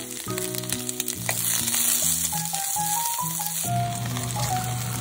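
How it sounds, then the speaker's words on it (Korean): Sliced garlic fries in a pan for a Korean stir-fried sausage and vegetable dish, giving a steady close sizzle under background music with changing notes. "마늘 3개 정도 슬라이스해서 넣어줍니다."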